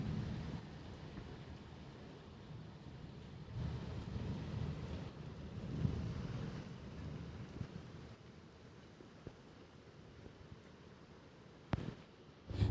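Heavy rain falls at night in a village, a faint, steady hiss. Low thunder rumbles swell in the middle, and a sharper crack comes near the end.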